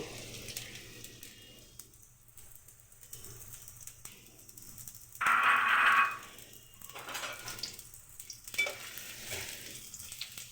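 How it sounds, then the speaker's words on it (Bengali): Chopped onions fry in oil in a wok at home with a soft, steady sizzle, broken by stirring scrapes and one louder burst of crackling partway through. "পেঁয়াজগুলোকে একটু ভেজে নেব"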